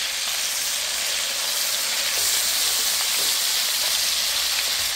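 Steady, dense sizzle and hiss of chicken tandoori pieces frying in a pan after being turned over, close and continuous with no talk.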